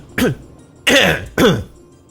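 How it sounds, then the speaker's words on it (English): Three throat clearings in quick succession from the game Final Fantasy XII, close and distinct, with brief silences between them. "I was actually literally clearing my throat, and she did the same"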